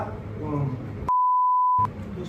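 A single steady electronic beep from a phone call ringing tone sounds clearly for under a second, set between stretches of muffled talk and background noise.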